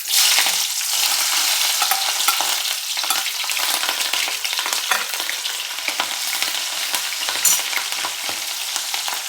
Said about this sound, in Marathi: मिरच्या छान परतल्या